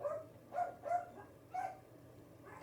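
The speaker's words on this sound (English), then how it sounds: "What's he barking at, Bern?" A dog barks indoors in a few soft, spaced barks, faint and somewhat distant, with no talk over it.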